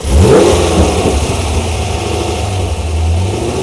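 A car engine cranks and catches on a small 3.5 pound softail lithium-ion battery, then revs loudly and settles into a rough close idle, no speech.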